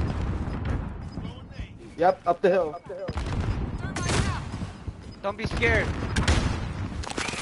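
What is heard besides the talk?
fireworks exploding in a video game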